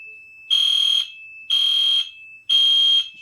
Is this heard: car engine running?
no